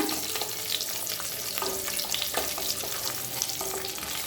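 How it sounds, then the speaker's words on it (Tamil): Chopped onions sizzle steadily in hot oil in a kadai with cumin and a bay leaf for kadai paneer. Stirring scrapes and taps sound close over the constant frying hiss, with no talking. "அடுத்தது வெங்காயத்தை சேர்த்துக்கலாம். வெங்காயத்தை இது மாதிரி கட் பண்ணி சேர்த்துக்கோங்க."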